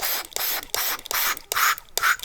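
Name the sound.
spraying alcohol inside a bottle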